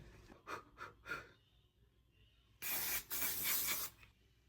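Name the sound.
makeup setting spray being sprayed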